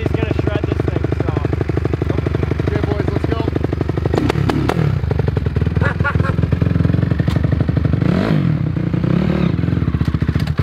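A motorcycle engine runs loud and steady nearby with rattling clatter, its pitch shifting as it revs, while people talk over it.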